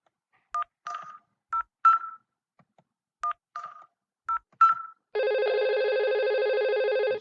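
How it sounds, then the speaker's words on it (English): A simulated IP phone in Cisco Packet Tracer first plays several clipped paired-tone dialing beeps in quick groups, then breaks into a loud steady electronic ring tone lasting about two seconds, with no one talking. "You see it is ringing. This is the phone that I'm calling."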